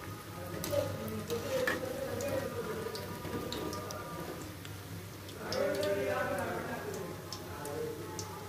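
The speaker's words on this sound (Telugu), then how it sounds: "మీడియం ఫ్లేమ్లో పెట్టుకుని ఫ్రై చేసుకుంటేనే బాగుండిద్ది" Banana bajji deep-frying in oil over a medium flame, with a steady bubbling sizzle that swells louder partway through, heard close and continuous and mixed with faint ticking pops.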